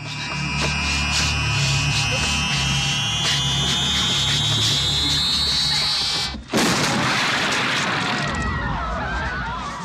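A rising electronic whine and rumble build under dense noise, then a sharp cut into a violent, crackling explosion burst that dies away into debris-like rustling.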